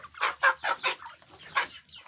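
Chickens cluck in short rhythmic bursts at a small home poultry setup, a rooster among them, several close calls in quick succession followed by one more after a brief pause.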